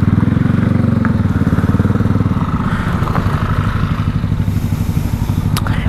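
A Honda Vario scooter engine hums steadily while riding on a mountain route in Banten, a close, continuous mid-pitched drone with a pulsing rhythm and light wind noise.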